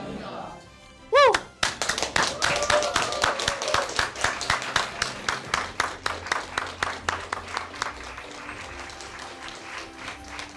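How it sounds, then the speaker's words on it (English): A crowd applauds at a naturalization ceremony in a library. A brief whoop is followed by loud, sustained clapping that settles into a rhythmic, gradually fading beat. "Another round of applause."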